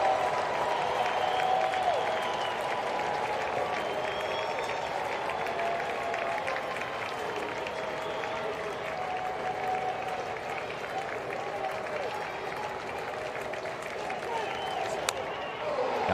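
A crowd of about 25,000 rises to its feet at a baseball stadium during a Cardinals at Nationals game, giving a steady, dense roar of applause and crowd noise that holds for the full length.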